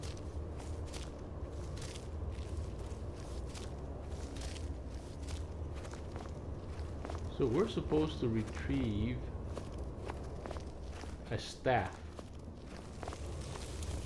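A player character walks through a dungeon in Skyrim Special Edition, the footsteps coming as a steady run of soft, close thuds throughout, with someone talking over them partway through.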